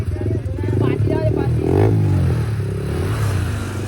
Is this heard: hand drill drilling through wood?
no